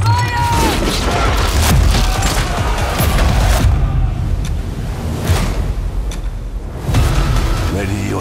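Ship cannons firing a volley in the pirate naval game Skull and Bones, heavy booming blasts rolling over one another amid wind and surf, with loud, close bursts and dramatic voices over them.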